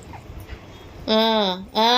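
Puppies whimpering in two drawn-out, high-pitched whines, close and fairly loud, the second one cut short, after a stretch of quiet background murmur.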